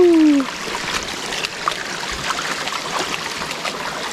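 A forest stream at a campground trickles and babbles steadily in the background, soft continuous water sound with a brief tonal squeak at the start.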